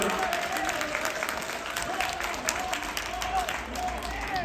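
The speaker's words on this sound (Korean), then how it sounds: "여러분 박수 한번 주시기 바랍니다" Audience applause at a Jinju bull-versus-bull fighting match, a steady wash of clapping from the crowd that holds for the whole stretch, with a voice speaking over it.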